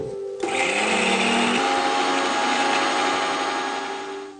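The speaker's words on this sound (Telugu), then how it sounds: "ఫస్ట్ మనం చిన్న జార్ తీసుకున్నాం. ఫస్ట్ అల్లం తీసుకున్నాం, పచ్చిమిరపకాయలు, జస్ట్ టు టేస్ట్, ఉప్పు కొంచెం. ఇది మొత్తం మనం గ్రైండ్ చేసుకోవాలి" A mixer grinder whirs into a loud, steady grind inside a small jar holding ginger, green chillies and salt, its motor starting abruptly and running continuously close by.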